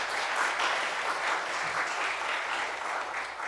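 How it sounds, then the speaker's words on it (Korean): A church congregation applauds steadily to welcome visitors, a dense, even wash of clapping that stays at constant loudness throughout with no talk over it. "박수로 환영하겠습니다"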